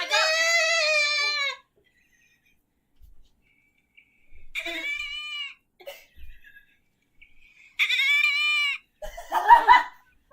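A person imitates a goat with several nasal, wavering bleats: one long call at the start, a shorter one in the middle and another near the end, separated by silence, with a cough-like burst at the close.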